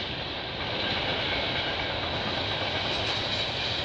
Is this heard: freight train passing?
yes